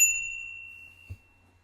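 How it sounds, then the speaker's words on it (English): A single bell ding rings out, bright and sustained, then slowly fades, with a soft low knock near the end. "Ring the bell, Danny."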